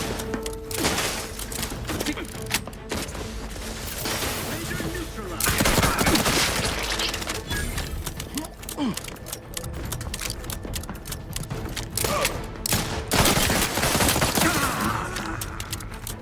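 Revolver gunfire in the video game Outer Worlds 2, dense bursts of shots and clattering mechanical sounds over a constant busy game background, loud and close, with a player talking throughout.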